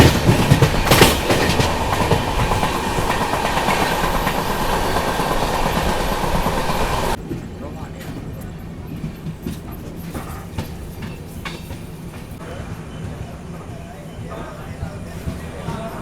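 Intercity passenger train running past a station at Aluabari Road Junction, loud, close rolling rumble and clatter for about seven seconds, then dropping to a quieter, steady distant rail rumble with faint clicks.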